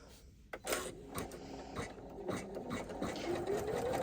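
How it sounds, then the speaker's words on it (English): Sewing machine stitching a seam along a fabric bag, a rapid mechanical whirr with clicking taps that starts and stops in short bursts, fairly close and moderately quiet. "So it's going to stitch all the way over here, then it's going to stop to leave the turning hole"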